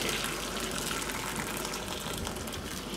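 Boiled water pours steadily into a container in a kitchen while preparing gari, a continuous close gushing splash that holds even for the whole stretch with no talk.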